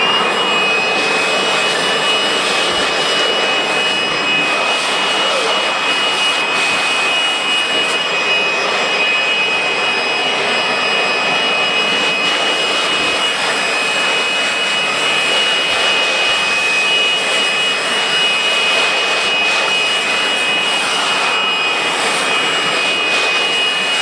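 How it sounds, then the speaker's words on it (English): Dust and dirt are blown out of a computer in a repair shop by a loud, continuous high-pressure air blast that holds an even roar with a steady whine throughout. "now that we have all the dust and dirt blown out of it"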